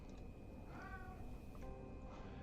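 A cat meows once, a clear rising-falling cry in the middle of the clip, with a short softer mew after it, set against steady room noise.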